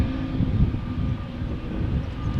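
An Air Baltic airliner departs Amsterdam Schiphol bound for Tallinn, its jet engines giving a steady, loud, close rumble with no voices.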